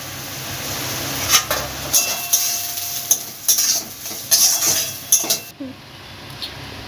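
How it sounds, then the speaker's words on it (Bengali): Grated coconut stirred in hot oil in a pan, a run of sharp metallic scrapes and clinks from a spatula over a soft sizzle, close and loud. "এবার তেলের মধ্যে নারকেলটা একটু নেড়ে নেব"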